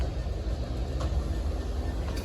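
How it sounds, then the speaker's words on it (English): Low rumbling drone of a Norfolk Southern locomotive and slug set passing at a distance, steady and heavy, with a few faint metallic clanks. "we got Norfolk Southern Slug set down the line"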